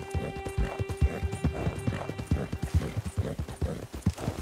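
A horse gallops in Red Dead Redemption 2, rapid rhythmic hoofbeats pounding steadily and close throughout, with a faint musical tone in the background.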